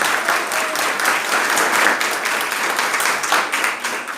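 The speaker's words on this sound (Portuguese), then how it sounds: "Aplauso de vencedor, vai." Sustained applause from a church congregation, many hands clapping together in a thick, even roar that swells slightly in the middle and eases toward the end.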